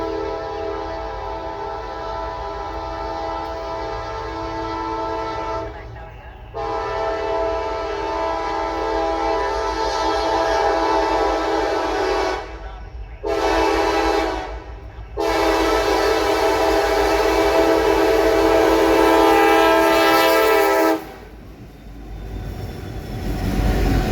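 Norfolk Southern freight train NS-27A led by a pair of NS SD70ACe locomotives and a UP unit sounds its horn in long, loud blasts, broken by short gaps, over the steady rumble and clatter of rolling cars.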